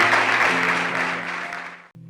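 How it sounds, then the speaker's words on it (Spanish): Members of a church congregation clap together in a brief burst of applause that gradually fades out, ending with a short low sound near the end. "Denle un aplauso al Señor, hermano."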